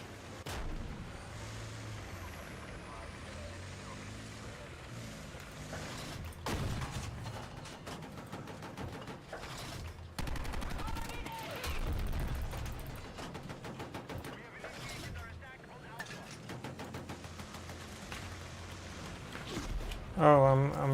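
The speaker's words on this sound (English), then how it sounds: "Those explosions look really good in this game." Battlefield 6 combat with bursts of gunfire, rapid machine-gun volleys and booming explosions, loud and irregular, continuing throughout with a player talking over the action.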